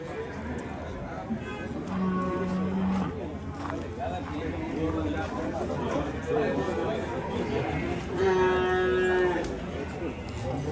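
Cows moo loudly at an open-air livestock bazaar in Termez, Surkhandarya, with several drawn-out calls rising over a crowd of chattering voices and general market bustle.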